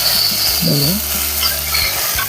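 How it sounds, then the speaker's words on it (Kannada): A garlic and curry leaf tempering hits sambar with a loud, steady sizzle close by, a brief warbling tone rising midway, the frying hiss continuing throughout. "ಒಗ್ಗರಣೆನ ಹಾಕ್ತಾ ಇದ್ದೀನಿ ಈ ಥರ ಸಾಂಬಾರಿಗೆ ಹಾಕಿ"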